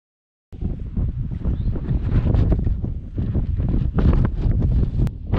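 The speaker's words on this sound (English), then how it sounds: "Sorry about all the wind, but this was my bedroom last night." Wind buffets a microphone outdoors after a brief silence, a loud, close, rumbling roar that keeps swelling and easing without stopping.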